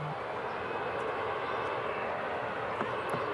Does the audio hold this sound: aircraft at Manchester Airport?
yes